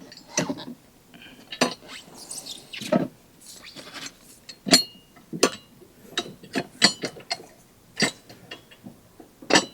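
Tire being fitted onto a portable manual tire changer at home: a string of sharp metallic clanks, clicks and ratcheting knocks at irregular intervals, fairly close, with no talking.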